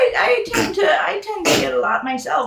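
A sharp, sudden sneeze bursts out in the middle of ongoing conversation, with people talking before and after it.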